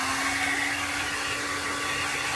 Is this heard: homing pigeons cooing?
no